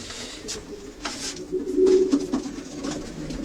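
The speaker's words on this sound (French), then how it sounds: "Là, ce sont les pigeons adultes." Adult racing pigeons coo softly in a loft, with low throaty calls swelling and fading over several seconds amid faint rustling.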